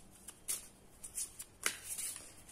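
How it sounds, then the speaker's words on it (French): Oracle cards are shuffled by hand in quick, soft riffling bursts, several crisp papery flutters in a row, faint and close. "Allez, on va en tirer une pour vous. Une carte pour les petits chamans."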